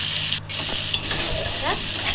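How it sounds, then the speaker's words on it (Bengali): Chopped onion fries in a pan for a fish-head moong dal, a steady close sizzle with scraping stirs and a few soft clinks, no voices. "পেঁয়াজ কুচিটা ভালো করে ভাজা হতে দেবো।"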